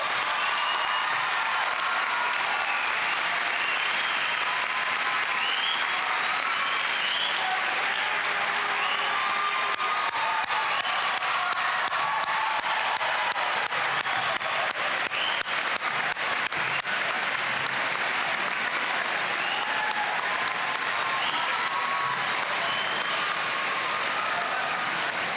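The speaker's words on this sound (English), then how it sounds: "It's time for all of us to give the graduates a round of applause." At the LHS 2004 graduation, a large audience fills the hall with continuous applause for the graduates, a steady, even roar of many clapping hands that holds for the whole stretch without pause.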